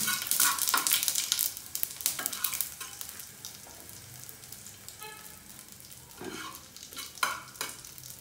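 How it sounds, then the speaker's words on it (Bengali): Cumin seeds frying in hot oil, a busy crackling sizzle with scraping stirs and sputtering bursts, close and moderately loud, easing off midway before flaring again. "আমরা এখন এর মধ্যে কয়েকটা জিরা দিয়ে দেবো, ভালো করে ভেজে নেই।"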